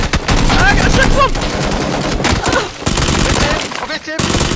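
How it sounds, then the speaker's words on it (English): Sustained video game gunfire, rapid automatic bursts and single shots crackling close and loud almost without pause, with people talking over the firing. "we're getting shot at by them other guys"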